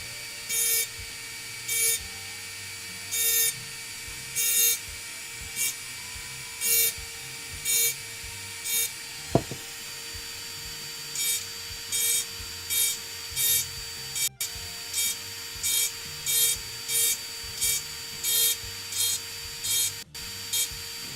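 High-speed rotary tool fitted with dental bits carving a coffee jar, a thin whine under a steady bed of motor hum, broken into short repeated bursts of grinding contact, close and fairly quiet.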